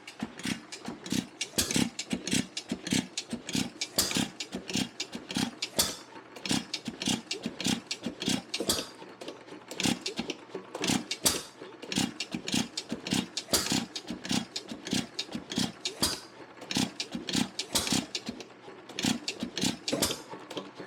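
Restored Waterloo gas engine being primed and coaxed to start, giving a rapid run of sharp, evenly spaced chuffs and pops that hold steady and close throughout with no talk.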